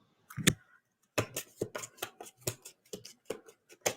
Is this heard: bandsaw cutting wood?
no